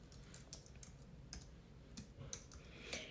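A computer keyboard clicks with quiet, irregular keystrokes, scattered taps spaced unevenly over low background noise, with no talking.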